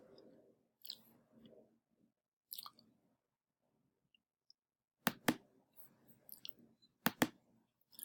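Several sharp, close computer mouse clicks, some in quick pairs, over faint intermittent speech in a quiet room.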